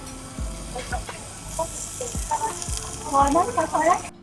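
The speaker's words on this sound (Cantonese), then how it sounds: "開始煎，俾大家聽下我燒嘢嘅聲音" Close sizzling and crackling of beef tongue and marinated pork chop cooking on a hot Korean barbecue grill at a restaurant, with intermittent clicks and taps and brief busy bursts toward the end.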